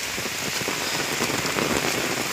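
Heavy rain pours steadily in the Philippines, a dense, continuous hiss of drops striking surfaces with no breaks and no voices.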